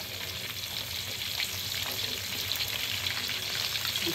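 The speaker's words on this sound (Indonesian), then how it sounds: "mula-mula kita akan goreng bekasam ikan sultan terlebih dahulu ya" Fermented sultan fish (bekasam) frying in hot oil, a dense continuous sizzle and crackle at close range with no speech.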